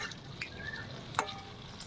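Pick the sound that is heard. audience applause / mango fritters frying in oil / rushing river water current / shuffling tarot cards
mango fritters frying in oil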